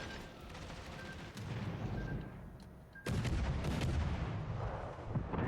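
Warship guns fire in the World of Warships: Legends naval battle game, with repeated heavy booming salvos and rumbling blasts that build to a dense, loud barrage in the second half.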